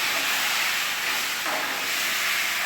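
Chicken fries in a karahi with garlic, ginger and green chili, producing a loud, dense, continuous sizzle and hiss that stays steady throughout.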